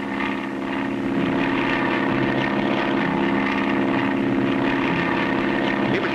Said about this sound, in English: Our plane is much faster.